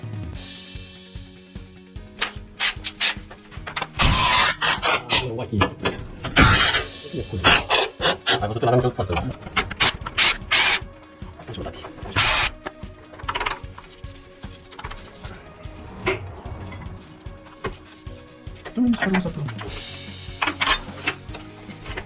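Metallic clicking and rasping of a ratchet working the engine mount bolts on a Nissan Qashqai, fairly close, in irregular bursts with clinks of tools and hardware.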